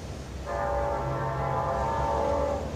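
CSX freight train K978 led by Union Pacific SD70AH locomotive UP9051 approaching near Okeechobee, a sustained chorded horn blast that starts abruptly and holds steadily over low rumbling, moderately distant.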